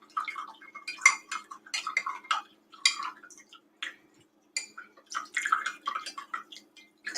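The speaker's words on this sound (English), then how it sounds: "we are going to pour the coffee in over the honey so that it'll melt the honey" Hot coffee poured into a bigger cup over honey, a light trickling and splashing with small clinks against the cup, coming in uneven bursts at close range with brief pauses.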